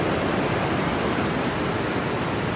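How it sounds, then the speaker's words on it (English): Steady, loud rush of a river flowing beneath a high bridge, a dense broadband roar of churning water that holds constant throughout without other sounds on top. "I love that river."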